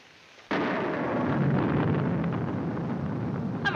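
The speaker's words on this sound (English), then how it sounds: "I'm afraid of the thunder and lightning." A loud thunderclap bursts in abruptly and rolls on as a sustained, broadband rumble during an indoor evening scene, with no speech over it.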